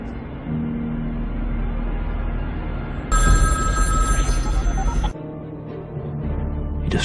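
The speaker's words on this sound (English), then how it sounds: "But a ringing phone has to be answered," A telephone bell rings loudly for about two seconds mid-clip, a bright sustained jangle over a low rumbling background that continues before and after.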